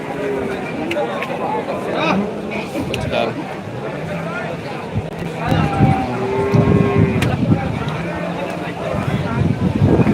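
Native cows and calves low at a large Bangladeshi cattle market, their moos rising through a busy crowd while people talk nearby throughout.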